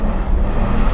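An Aston Martin DBS accelerates hard in second gear, a loud, deep engine drone heard from inside the car, steady and strong over one brief moment.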